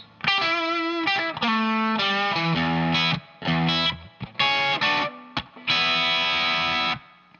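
A distorted electric guitar plays a bluesy solo phrase alone, with bent and sustained notes in short bursts separated by brief pauses.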